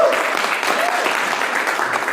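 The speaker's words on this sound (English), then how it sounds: "round of applause for him" An audience at a panel discussion applauds a panelist being introduced, brief steady clapping from a modest crowd with a voice briefly audible over it.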